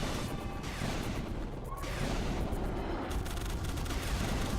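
A harpoon gun fires on full auto in The Mummy Demastered video game, heard as a rapid rattle of repeated shots with booming impacts. The barrage is dense and sustained at moderate level, with no talk.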